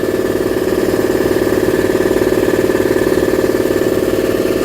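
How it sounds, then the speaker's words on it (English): A Magnaforce 80 gallon, 175 psi air compressor runs steadily in a garage, a loud continuous motor drone with a rapid pulsing chug throughout and no talk. "my live YouTube compressor comes on just to show you how it is out here"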